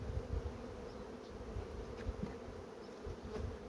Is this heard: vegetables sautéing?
no